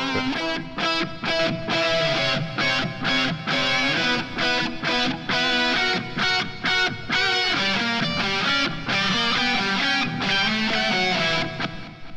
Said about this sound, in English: You can hear that melody, the delay going off there